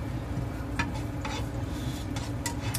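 Ginger fries in a pan with steady sizzling throughout, while a utensil stirs it in a few short scraping strokes; no one talks.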